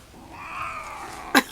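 A cat gives a drawn-out, rising and falling low growl, close and fairly loud, ending in a short sharp hiss or spit.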